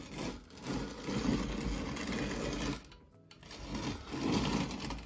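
A hand-cranked grain mill grinds corn into cornmeal with a steady, rough grinding whir that runs continuously, pauses briefly near the middle, then resumes at similar loudness; no talking.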